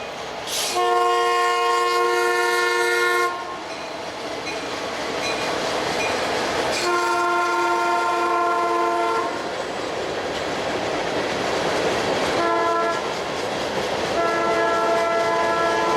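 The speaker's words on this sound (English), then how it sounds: "A very unusual CP train led by two old EMDs on a very picturesque summer evening" A passing Canadian Pacific freight train led by two old EMD locomotives sounds its horn in several long blasts, with rumbling locomotive engines and rolling wheels underneath, on a summer evening.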